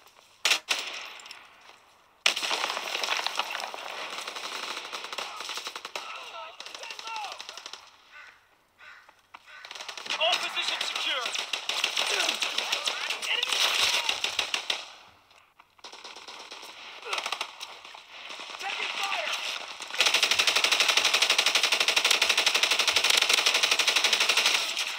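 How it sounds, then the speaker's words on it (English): Bursts of MG15 machine gun fire in Call of Duty WWII on the Winter Carentan map, long rattling volleys broken by short pauses, loud and close, with a player's voice talking over parts of it. "For using my MG15, I don't use scopes at all."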